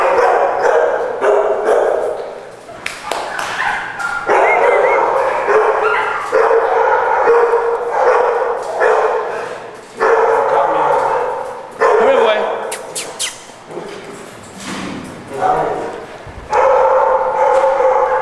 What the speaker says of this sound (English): These are some dogs that's up for adoption. Very friendly dogs.